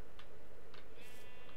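A sheep in the video game Minecraft bleats in short, faint calls repeated at intervals over steady background noise.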